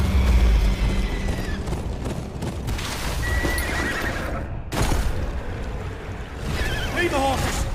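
Horses in the Game of Thrones: Kingsroad video game neigh and whinny over clip-clopping hooves and rushing water, loud and close within a dense game soundscape, with a voice speaking briefly.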